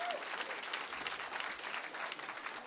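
Clapping from part of a live stand-up comedy crowd at Comedy on State, an even spread of many hands heard at a moderate distance and fairly soft, steady for the whole stretch with no talk on top.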